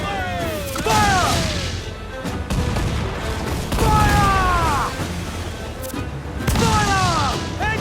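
Cannon and gunfire booms crash repeatedly during a naval battle in Assassin's Creed IV Black Flag on PS4, loud blasts recurring every few seconds amid shouted crew voices and swelling game music.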